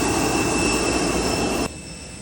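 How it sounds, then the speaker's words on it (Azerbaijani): Steady broadband roar of an airliner at Qabala airport before takeoff, heard from inside the cabin, with a constant engine hum and high whine that drops slightly in level near the end; no talking. "Qəbələ hava limanından minirəm təyyarəyə və uçuş öncəsi təlimatlandırılırıq"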